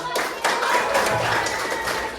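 Classmates clap for everyone during a university classroom management session, a short burst of dense clapping starting abruptly and holding steady for about two seconds, with voices mixed in.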